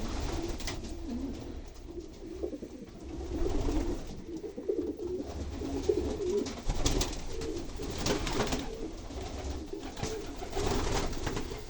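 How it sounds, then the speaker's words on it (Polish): Pigeons coo softly and repeatedly in a pigeon loft with nesting cells, against a low background hum, several birds overlapping in a steady, murmuring chorus. "Głębi jest pełno"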